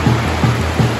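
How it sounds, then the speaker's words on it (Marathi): Heavy rain pours at a Dahi Handi festival with a Govinda troupe and banjo band, a dense even hiss filling the air, broken by regular soft low thumps every few tenths of a second. "तुफान पाऊस"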